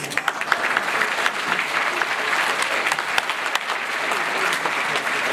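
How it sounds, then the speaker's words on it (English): Audience applause for a group of fathers who have just performed in a teachers and parents concert, a dense, steady clapping that carries on throughout at a fairly close, even level. "One more round of applause for them"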